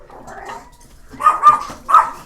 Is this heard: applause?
no